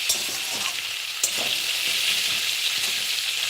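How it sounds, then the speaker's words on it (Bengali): Steady sizzling of vegetables and spinach frying in a pan, with occasional scraping and stirring clicks, close and continuous with no talking. "সবজিগুলো একটু ভাজা ভাজা হয়ে গেলে"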